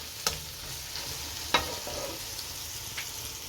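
Ginger garlic paste sizzling with chicken karahi in a pan over a high flame, a constant frying hiss broken by three sharp clinks of a stirring spoon.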